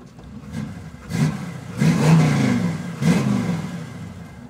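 A 1976 Chevy Nova with a Turbo 350 transmission revs through its exhaust, giving three rising surges of throaty engine roar over a steady rumble, close and fairly loud.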